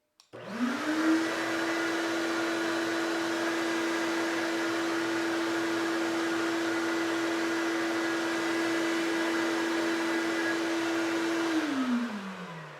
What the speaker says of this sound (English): That is hands down the quietest vacuum out of all of them.